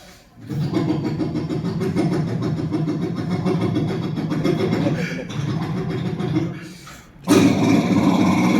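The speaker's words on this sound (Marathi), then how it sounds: "तो मित्र आला बुलेट घेऊन" A Royal Enfield Bullet motorcycle engine thumps steadily nearby, idling with a low rhythmic putter, dips briefly, then revs louder as it pulls in.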